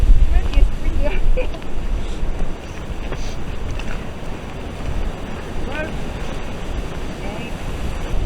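Wind gusts across an open countryside footpath near Steep, Hampshire, a steady rough rumble that is strongest in the first couple of seconds, then settles into a continuous buffeting roar.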